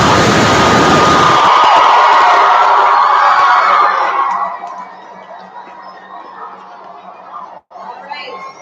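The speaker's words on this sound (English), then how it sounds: "cheering each other on, cheering other teams on, cheering yourselves on. Let's hear you do that." A school assembly of 3rd to 5th grade children cheering loudly together, a dense roar of shouts and whoops that holds for about four seconds, then drops away to quiet room noise with scattered faint chatter.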